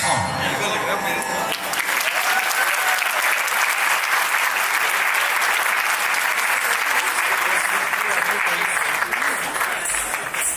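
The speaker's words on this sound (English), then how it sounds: "Can we have another round of applause for Malvika, please, ladies and gentlemen?" Sustained applause from a banquet-hall audience at an Indian Republic Day event after a Bharatanatyam dance performance; a brief stretch of music or voice fades out at the start, then loud, dense, continuous clapping fills the rest.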